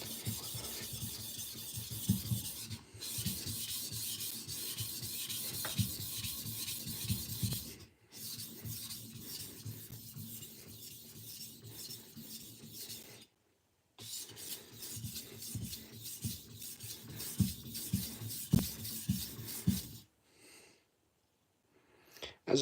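A kitchen knife is drawn repeatedly across a sharpening surface, giving close, rhythmic rasping strokes in long bursts separated by brief pauses.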